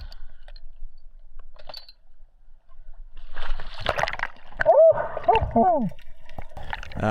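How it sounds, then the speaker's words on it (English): A man lets out a short, high squeal as the first rush of cold water enters his wetsuit while he wades in to dive for crayfish, amid close splashing and sloshing water. "that super masculine squeal that you just heard was from that first shoot of cold water going right up my wetsuit"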